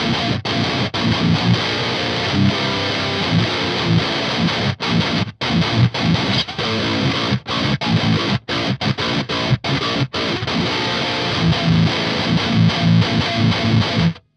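Heavily distorted electric guitar through the precision drive channel of a Mode Four M350 amp, played as dense, loud riffing with brief choked stops and no talking.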